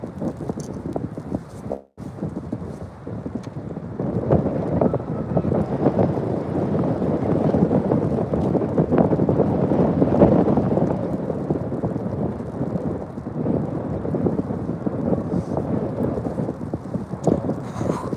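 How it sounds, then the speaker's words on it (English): Strong wind rumbling against a microphone, a continuous low roar that builds and stays heavy throughout, with no one talking. "Y'all can probably hear the wind blowing through."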